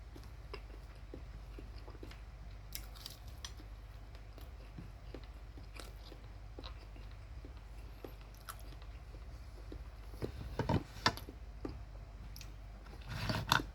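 Crunchy fried chicken skin is chewed close up in quiet, with faint irregular crisp bites and crackles that grow louder and denser toward the end.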